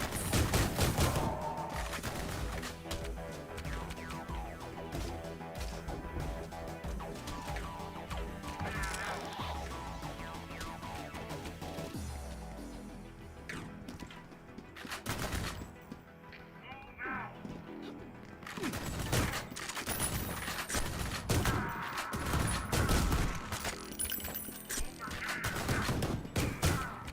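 Pistol shots fired in the retro shooter Ion Fury, rising in sharp bursts over a busy game soundtrack and mechanical clatter, with a voice talking over parts of it.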